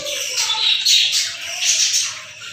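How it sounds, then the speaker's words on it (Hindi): Parrots and small birds squawk and chirp continuously in a backyard with chickens, high-pitched calls overlapping in a busy, steady chorus at moderate distance. "और पीछे वो तोते और चिड़ियाँ और जो ना परिंदे हैं"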